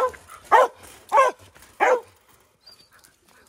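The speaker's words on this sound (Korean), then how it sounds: "멍멍이." A dog barks three times in loud, evenly spaced bursts on the outdoor field of a dog training school in Yangpyeong one morning, then the yard falls nearly quiet.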